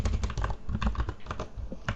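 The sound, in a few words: typing on a computer keyboard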